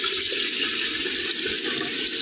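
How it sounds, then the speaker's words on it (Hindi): Water pours from a tap into a kettle at home, making a steady, close splashing stream for a couple of seconds. "तो अपन डालेंगे केटल में पानी,"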